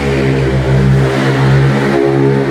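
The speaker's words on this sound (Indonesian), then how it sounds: "kalau motor lu masih pelan gak usah malah berisik" A motorcycle with an aftermarket exhaust revs loudly and close, its deep droning engine note holding steady with slight rises and dips for a couple of seconds.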